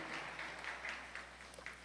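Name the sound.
applause in church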